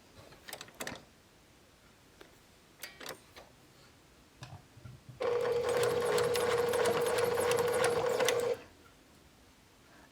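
A sewing machine stitches pleated fabric in one steady, even run of about three seconds, after a few scattered clicks and taps of handling the cloth; no voices.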